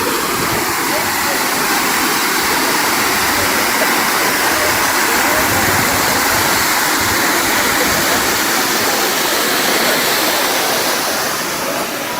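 Steady, loud roar of a waterfall in the Thirumoorthy Hills, broadband rushing water filling the whole clip without pause.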